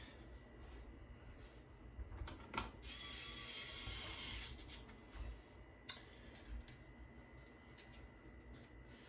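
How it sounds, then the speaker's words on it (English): An electric screwdriver drives screws into a computer case while building a Pentium II Windows 95 PC, with soft whirring bursts and ratcheting clicks over faint background noise. "Electric screwdriver is very nice."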